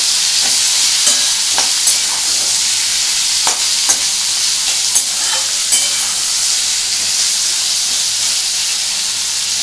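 Chopped onion and potato frying loudly in a pan make a strong, hissing sizzle, with occasional sharp clicks from stirring, and nobody speaks.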